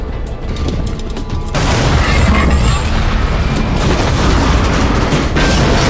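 A makeshift explosive blasts open a garage door: a low hum is cut by a sudden loud roaring burst that keeps rumbling and crackling to the end.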